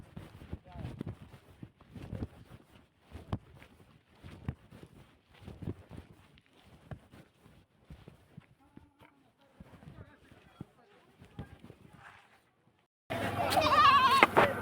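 Goats, including a castrated billy, bleat repeatedly at a livestock sale, with loud, bursty calls mixed with nearby voices talking over them. A sudden louder, dense noise cuts in at the end.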